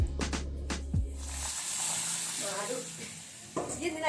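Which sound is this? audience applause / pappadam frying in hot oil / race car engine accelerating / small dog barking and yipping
pappadam frying in hot oil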